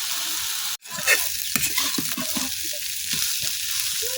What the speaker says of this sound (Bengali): আমি আর কিছুক্ষণ বাজিটা ভাজা ভাজা করে নিলাম।